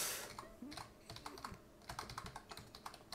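Rapid clicking and key tapping while playing the video game PlateUp!, a quick, dense run of sharp close clicks with no talking.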